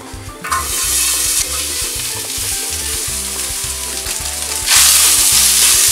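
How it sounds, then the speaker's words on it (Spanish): Chopped pork meat frying in a pan for chicharrón in red sauce, a loud steady sizzle throughout with rhythmic low clatter of the pan and a sharp rise in hiss near the end, no talking. "Ya que partimos la carne, ahora vamos a pasarla a un sartén."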